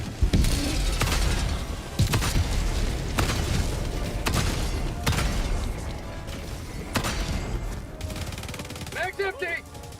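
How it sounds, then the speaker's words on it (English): Orbital strike explosions and heavy gunfire in Helldivers 2 during a push against robot enemies, with repeated loud booming impacts and crackling bursts through the clip and a voice talking over the battle. "Requesting orbital strike."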